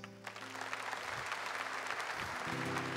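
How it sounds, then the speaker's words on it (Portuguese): A church congregation applauds during a weekday Advent Mass homily, a steady, dense wash of clapping that fills the room for the whole stretch without pause. "Vamos aplaudir eles?"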